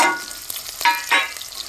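Mustard oil crackles and sizzles steadily in a hot kadhai as cumin and onions fry, with a few louder bursts of spattering and stirring scrapes.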